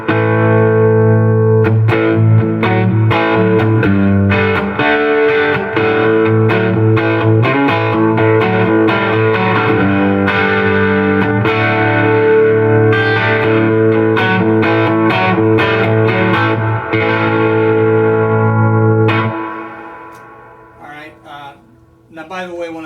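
Electric guitar through a Fender Knotty Pine '65 Princeton Reverb amp with a Vemuram Shanks ODS-1 overdrive, strummed chords and picked notes with a warm driven, reverb-washed tone, playing continuously before ringing out and fading near the end.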